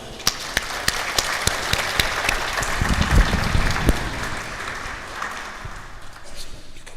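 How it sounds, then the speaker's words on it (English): An audience at an interfaith iftar dinner claps to welcome a speaker, a moderate round of applause with distinct individual claps standing out, swelling in the middle and then thinning toward the end, with faint murmuring underneath. "we can welcome him with a round of applause."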